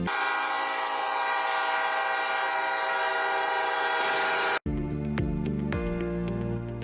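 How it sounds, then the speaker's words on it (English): A car stuck on a snowy rail crossing is struck by a passenger train sounding its horn continuously, a loud sustained blare that cuts off abruptly, followed by several short horn blasts and rumbling. "Car stuck on a rail crossing due to snow and got hit by continuously honking train."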